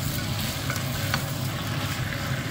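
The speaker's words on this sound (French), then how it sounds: "Et maintenant, on va y mélanger avec nos légumes." Chicken fillets and fresh vegetables stir-fried in a wok give a steady, close sizzle with continuous stirring and tossing throughout, with no voices.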